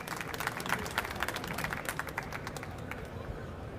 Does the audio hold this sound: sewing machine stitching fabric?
no